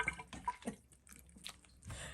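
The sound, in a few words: water spilling out onto a counter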